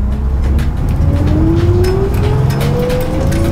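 A 1959 GM 4104 bus driving through wide turns, its engine droning loudly and steadily with a rising pitch as it pulls in first gear, with no talk.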